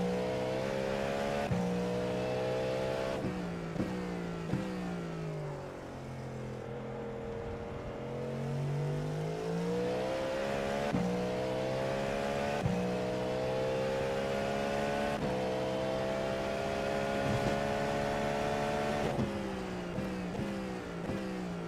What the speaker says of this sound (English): I already heard the car sliding 4 wheels in.